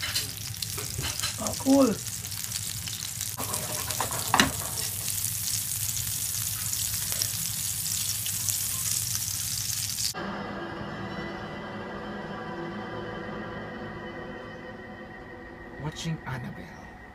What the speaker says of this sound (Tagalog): Ang pinakamahirap lutuin sa lahat na ulam ay... pritong hotdog.